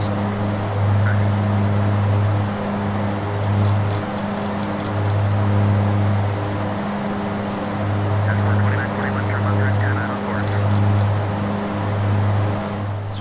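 The FlyJSim Q4XP turboprop in the X-Plane 12 flight simulator drones steadily, a loud pulsing engine hum with faint high clicks over it.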